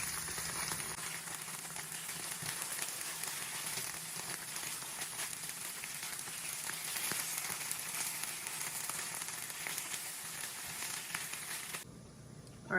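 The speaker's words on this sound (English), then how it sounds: "we're gonna pan fry another side for another 4 minutes" Soba spring roll pan-frying in a pan, a steady close sizzle and crackle running evenly with no talk over it before cutting off at the end.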